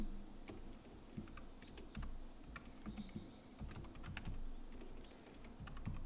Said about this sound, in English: my typing tonight is, like always, terrible.